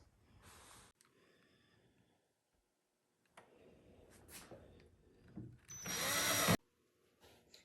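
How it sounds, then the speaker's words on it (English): A power drill whirs in short bursts drilling pilot holes in wooden furniture legs, the last one loudest and longest, with quiet tool handling and clicks between runs. "so after drilling those pilot holes"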